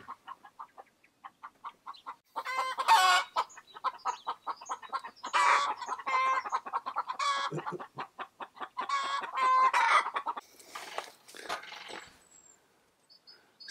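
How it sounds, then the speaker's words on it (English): Chickens on an off-grid homestead clucking in repeated bursts of close, lively chatter that rise and fall over several seconds, with no talk. "The chickens are happy"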